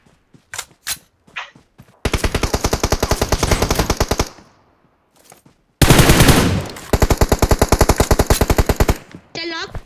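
Rapid automatic machine gun fire in a video game, two long loud bursts of evenly spaced shots separated by scattered single shots and short pauses, with excited voices talking over the gameplay.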